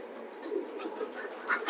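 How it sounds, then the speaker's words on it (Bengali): Small to medium long-distance racing pigeons at a loft give soft, low cooing murmurs, fairly quiet and continuous, with a slightly stronger call near the end. "এগুলো হলো লং এর কবুতর"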